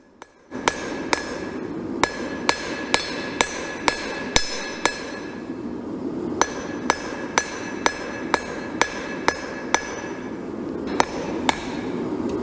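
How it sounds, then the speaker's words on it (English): A 1/8-inch (about 3 mm) blank of 1084 high carbon steel is hammered while forging a hunting knife with basic tools: sharp, ringing metallic strikes land close by in a steady rhythm of roughly two per second, with short pauses and no talk. "my first attempt at forging and heat treating a knife. I'm using 1084 high carbon steel."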